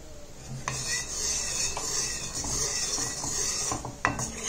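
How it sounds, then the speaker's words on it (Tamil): A hair dye mixture stirred in a pan over a medium flame gives off a steady scraping, rubbing sound with soft sizzle and a few light metallic clinks, close and continuous with no talking. "மீடியம் ஃப்ளேம்ல வச்சுட்டு நல்லா வந்து இது மாதிரி கிளறி விட்டுட்டே இருங்க"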